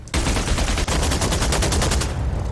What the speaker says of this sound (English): To fire the cannon, fire cannons.